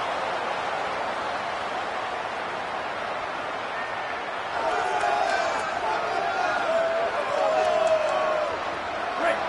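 Stadium crowd roar in the NCAA Football video game, a steady dense wash of cheering that swells slightly during a third-down play, with commentators talking over it.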